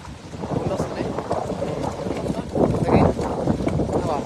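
A thunderstorm on the water brings strong wind and rain in a dense, roaring wash, with a heavier surge about midway; a voice talks faintly beneath it.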